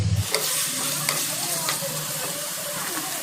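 Chopped tomato tossed into a hot pan of frying vegetables with ginger and carrot for a vegetarian paneer rice, a loud steady sizzle with stirring scrapes and clatter close by.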